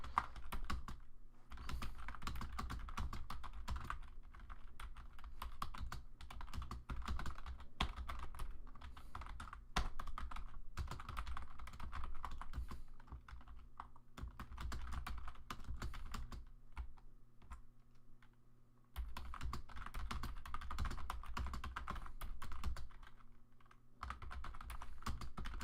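Rapid, uneven clicking of a computer keyboard as a note is typed, close and steady in bursts with a couple of short pauses.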